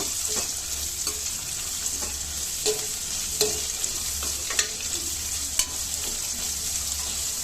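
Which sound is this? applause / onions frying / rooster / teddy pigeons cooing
onions frying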